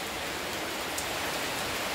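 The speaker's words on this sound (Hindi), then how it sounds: "तो बारिश हो रही है फिलहाल" Steady rain falls during a rainy day outside a school in India, a dense, even hiss of drops that continues without a break. No voices are heard over it.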